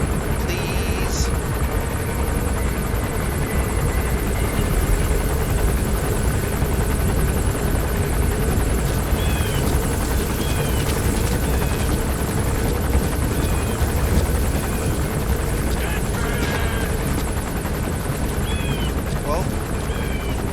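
Helicopter descending to land in Metal Gear Solid V: The Phantom Pain, a steady dense rotor and engine roar held loud and constant throughout, with faint higher game effects scattered over it.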